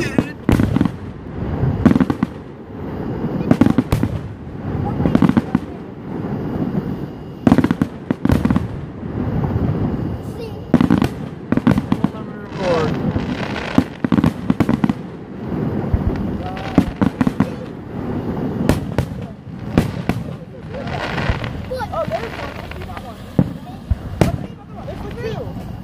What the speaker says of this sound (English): Fucking fireworks, dude.